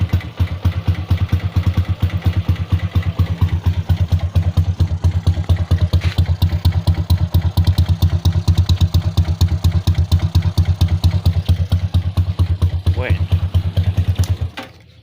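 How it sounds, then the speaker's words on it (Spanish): An Italika motorcycle idles with its exhaust removed, giving a loud, close, rapid and evenly pulsing putter with a clattering edge that runs steadily before stopping abruptly at the end. "Así suena con la bala. Nada más que el motor hace un ruidajo."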